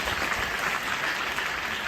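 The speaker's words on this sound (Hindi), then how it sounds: "एक जोरदार ताली आप सबके लिए, मिल के करना है।" Audience applause in a Hindi-speaking gathering, a dense, steady roar of many hands clapping together, loud and even throughout the short stretch.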